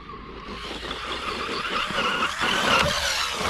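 A radio-controlled car on Talon EXT tires runs a faster lap around a jump track, its motor whining steadily and rising slightly in intensity, with constant broadband driving noise and no talk.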